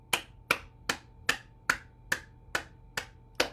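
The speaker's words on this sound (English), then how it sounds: "we're going to start with clapping 9 times" Nine sharp hand claps in a steady, even rhythm, each crisp and close, spaced about half a second apart with quiet between them during a circulation and heart health exercise session.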